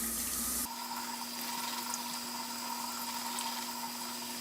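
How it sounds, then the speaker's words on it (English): Cold tap water runs steadily into a kitchen sink over beans being rinsed, a continuous close splashing hiss with a louder, fuller gush in the first moment before it settles. "turn the water on and run the beans through the water"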